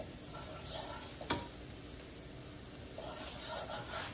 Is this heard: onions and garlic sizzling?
yes